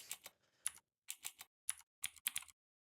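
Keys clatter on a computer keyboard as code is typed, short clusters of crisp clicks in an uneven rhythm separated by brief pauses, close and fairly quiet, with no voices.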